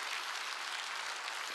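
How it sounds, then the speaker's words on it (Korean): A church congregation claps during a Wednesday worship service, an even, hissing spread of many hands heard briefly and at moderate distance. "박수 치려면 치고"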